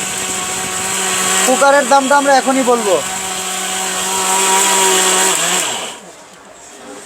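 An electric blender grinds grain in a kitchen, giving a burst of rapid pulsing whirs and then a steadier motor drone, with someone talking loudly over it.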